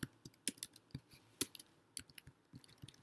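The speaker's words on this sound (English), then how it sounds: "If I can type." Computer keyboard typed on in a quick, uneven run of close, light key clicks with small gaps between strokes, fairly quiet.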